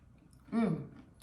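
Crunchy homemade granola is chewed close to the mic in one short, loud burst of crackling bites that fades quickly.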